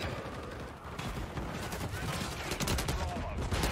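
Striker 45 submachine gun fire in Modern Warfare 3 multiplayer, a dense, loud, sustained burst of rapid shots with echoing battle noise filling the whole stretch.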